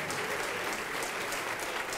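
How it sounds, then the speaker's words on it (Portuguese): A church congregation applauds during a televised evangelical service, steady dense clapping filling the whole stretch with no voices on top. "vamos aplaudir ao Senhor Jesus por cada vida que está chegando"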